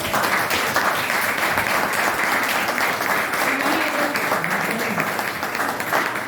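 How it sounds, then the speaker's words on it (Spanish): Audience applause at a university history lecture on insurgent and decolonial history, dense and sustained at an even, fairly loud level for the whole stretch, with no pauses. "Por favor, para él un aplauso."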